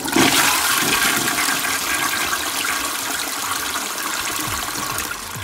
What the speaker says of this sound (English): And now, time for a nice, decent flush for that.